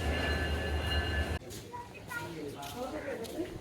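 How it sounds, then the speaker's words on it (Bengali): The Parabat Express intercity train stands at platform one of Kamalapur railway station, giving a steady mechanical hum with tonal whine that cuts out suddenly, followed by quieter platform ambience and faint voices. "আন্তনগর পারাবত এক্সপ্রেস কমলাপুর রেলওয়ে স্টেশনের এক নম্বর প্ল্যাটফর্মে দাঁড়িয়ে আছে"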